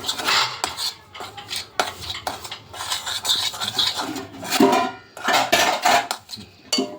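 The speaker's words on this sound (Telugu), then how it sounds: "ఇగో అల్లమును కారం కలిపి ఇట్లా చేసుకోవాలి" Utensil scraping and clinking against a dish while ginger is mixed with chili powder for fish curry, a continuous close stirring and rubbing with uneven rhythmic scrapes.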